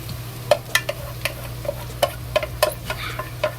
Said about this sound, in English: Okay, we fry it.